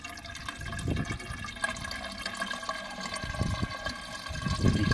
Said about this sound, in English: You can hear the tank filling up.